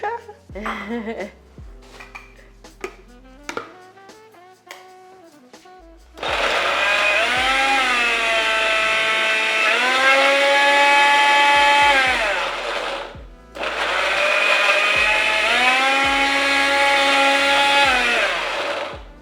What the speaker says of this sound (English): My amazing blender.